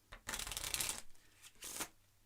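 A deck of playing cards being shuffled by hand, two quick riffling bursts of soft papery flutter, close and quiet with no talking.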